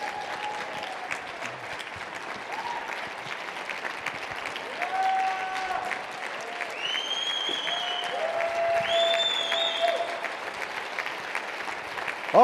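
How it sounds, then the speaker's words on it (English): An audience claps for a company in sustained applause, a dense wash of hands that swells slightly, with scattered whoops and cheers rising above it. "give a big round of applause for the company"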